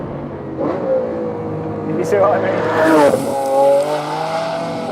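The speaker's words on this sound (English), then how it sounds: "there's a lovely flare of revs on the downshift" A Lamborghini Aventador V12 with a single-clutch gearbox, its engine note rising and falling through gear changes with sharp rev flares on downshifts, loud and close beneath someone talking.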